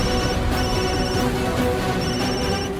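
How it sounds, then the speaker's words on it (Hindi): A phone rings with a repeating electronic ringtone melody in short bursts over a busy, dense background, fairly loud and close, with no one speaking. "अरे ये तो उसी अमीर लड़की की माँ का फोन है।"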